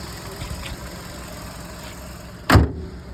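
A Volkswagen Touran's 1.6 MPI naturally aspirated petrol engine idles steadily at low volume, with a brief louder thump, like a door or hood closing, near the end.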